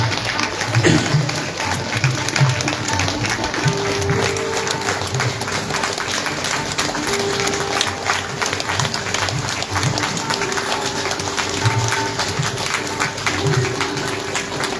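Loud, sustained applause from an audience at a women's honouring ceremony held by a village sakhi mandal in Jira, dense clapping that runs without a break and has a faint crowd murmur underneath.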